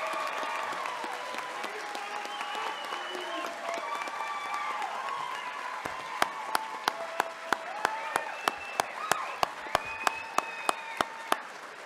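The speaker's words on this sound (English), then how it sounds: "How about one more round of applause for our graduates?" A graduation audience at a homeschool ceremony claps steadily in a sustained, dense round of applause that fills the room, with a few sharper, louder claps standing out near the end.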